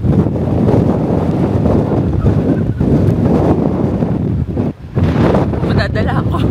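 Strong gusts of wind buffet the microphone in loud, roaring bursts outdoors at Mt. Fuji, with voices faintly underneath.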